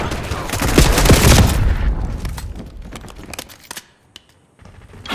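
Rapid bursts of gunfire and booming shots in Call of Duty Black Ops 6 multiplayer on a Bulgaria map, loud and dense at first, then thinning to scattered sharp cracks before a brief lull.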